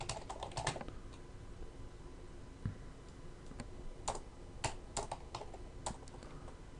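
Typing on a computer keyboard, with quiet irregular clusters of key clicks and taps spread over several seconds, close and soft, with no talking.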